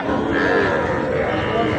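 Sahiwal bull calves at Ambari cattle market low and moo amid the hubbub of the livestock market, with people talking nearby.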